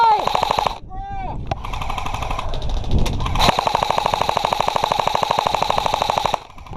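Airsoft guns fire in rapid bursts during an outdoor bunker skirmish, a dense, steady chatter of repeated shots that runs almost nonstop, with shouting players heard amid the gunfire.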